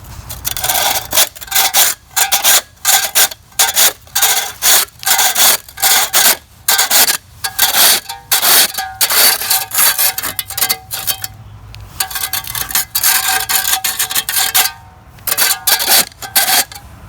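A flat, sharp scraper shovel pushed across a level concrete driveway to clear weeds, giving loud close rasping strokes in a quick steady rhythm with short gaps and no talking.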